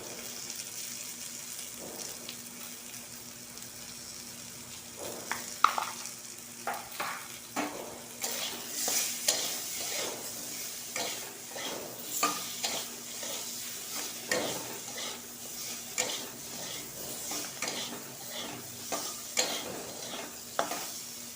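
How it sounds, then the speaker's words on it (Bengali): Potatoes are stirred in a frying pan after turmeric and salt are added, giving a steady close sizzle with repeated scraping and stirring strokes, alone with no talk. "আমি আলুটা একটু নাড়াচাড়া করেই কিন্তু তাতে হলুদ আর লবণ দিয়ে দিলাম"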